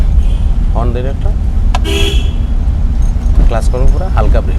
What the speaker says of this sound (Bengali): হর্ন দিন একটা